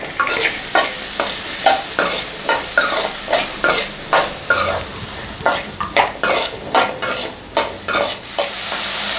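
Onion and tomato sautéing in a pan for black gram chutney, with a loud sizzle and rhythmic spatula strokes scraping the pan about once a second, close and continuous, with no voices.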